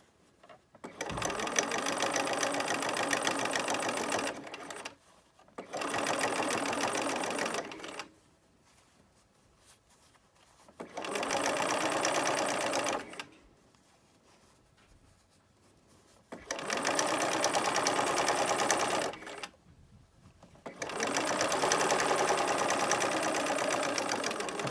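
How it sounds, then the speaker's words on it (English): Sewing machine top stitching fabric, heard in five long steady bursts of fast mechanical whirring, each separated by short quiet pauses while the fabric is readjusted. "So we just top stitched the top"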